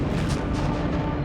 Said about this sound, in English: let's not forget the explosions